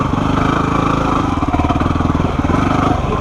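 A dirt bike engine chugs steadily at low revs over a rocky trail, loud and close, with a throbbing rhythmic note and some clatter underneath.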